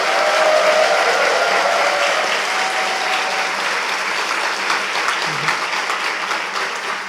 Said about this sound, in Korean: 일어나시면 따뜻한 박수로 환영해 주시기 바랍니다